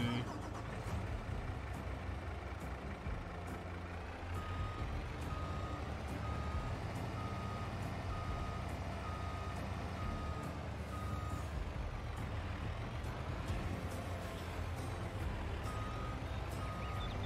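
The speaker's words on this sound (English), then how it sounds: "Move this truck out of the way." A truck in Farming Simulator 22 backs up with steady, repeating reversing beeps over a continuous engine drone, the beeping even and sustained throughout.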